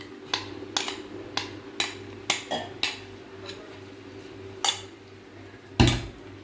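Metal spoon or ladle clinking against a pan while leftover khoya is stirred into milk, a dozen sharp, evenly spaced taps close by, with one heavier clank near the end over a low steady hum.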